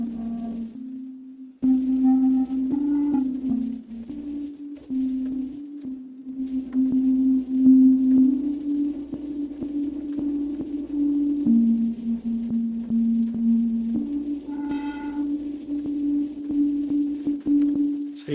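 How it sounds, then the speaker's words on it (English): A sustained synth tone from the Pigments software synthesizer with distortion applied, holding a steady buzzy pitch that steps between notes, with brief higher chirps, loud and alone throughout. "So maybe we put a little bit of distortion on here."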